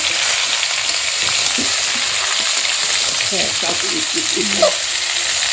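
Pumpkin, okra and other vegetables stir-fry in a pan with a loud, steady sizzle and frequent scraping stirs, and a voice speaks briefly, low and partly masked by the frying.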